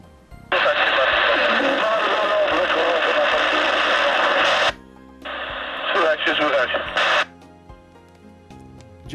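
A loud burst of CB radio transmission noise with a voice speaking Polish coming through, then a shorter second burst after a brief gap, and a quieter tail.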